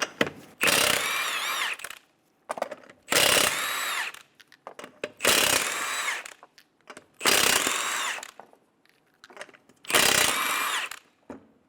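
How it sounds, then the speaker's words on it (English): A power tool, probably an impact wrench, removes five 21mm lug nuts from a 2007-2012 Nissan Altima wheel: five loud, separate whirring bursts, each about a second long, with short pauses between them. "Remove the 5 21mm lug nuts."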